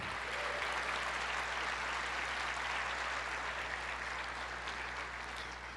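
A church congregation applauds together, a broad continuous wash of clapping heard at moderate distance with a low steady hum underneath.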